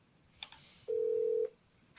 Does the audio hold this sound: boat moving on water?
no